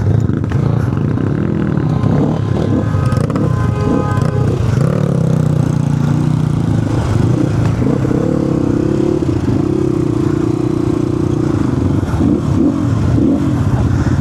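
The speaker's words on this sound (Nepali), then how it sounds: "पावरै लो छ यार बाइकमा" A motorcycle engine labours on a high-altitude mountain road between Jomsom and Thorong La Phedi, running loud and close with a steady, rough drone and shifting revs. Faint talk sits under the engine noise.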